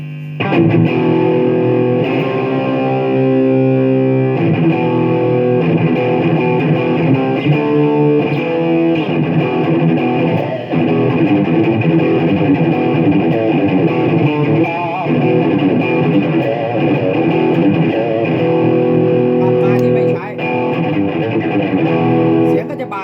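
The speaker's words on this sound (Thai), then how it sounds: "ผมลองใช้มาแชลนะครับแล้วก็ใช้กับเอฟเฟกเสียงแตกที่ผมปรับไว้" Electric guitar played through a Marshall preamp with a distortion effect, a dense, continuous overdriven tone ringing loud and sustained throughout, with chords and notes blending together.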